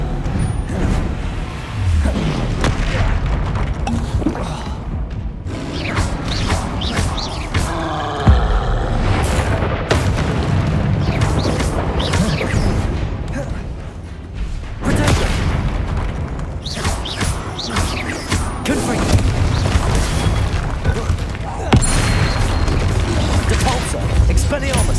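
Repeated booming spell blasts from Confringo in the Hogwarts Legacy video game, loud bursts recurring throughout amid dense combat effects and crackling impacts, with talk heard in between.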